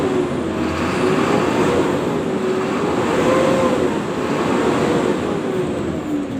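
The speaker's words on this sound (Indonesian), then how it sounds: "Jadi akselerasinya atau pedal gas ini harus di blayer sama koplingnya harus dikocok-kocok seperti ini." A tronton heavy truck with a slipping clutch runs its engine while the gas pedal is blipped and the clutch pumped. A loud, close, continuous diesel roar rises and falls slightly in pitch, with no talking over it.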